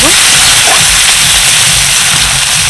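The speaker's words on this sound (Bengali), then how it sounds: "আদা রসুন কাঁচা লঙ্কা হালকা করে ভেজে নিয়েছি" Crushed ginger, garlic and green chillies fry in hot oil for Bengali tomato chop, giving a steady, close sizzle and hiss that holds loud and even throughout with no talking.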